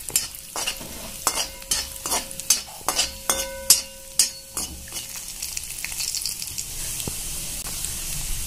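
Carrot halwa with cashews, almonds and poppy seeds being stirred in a pan, repeated rhythmic scrapes of a spoon against the metal over a soft sizzle, close and fairly quiet.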